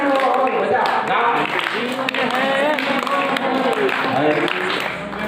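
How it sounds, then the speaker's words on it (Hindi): A crowd at a devotional gathering and discourse claps along to a hymn, a continuous ragged patter of many hands underneath loud singing voices. "सब लोग ताली बजाओ गाना।"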